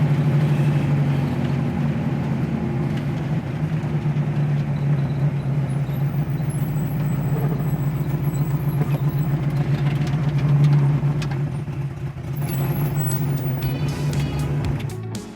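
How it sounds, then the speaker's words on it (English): An old car's engine rumbles steadily close by, a deep continuous drone that swells slightly toward the middle before easing off, with no talking over it. "No, it's an old car coming."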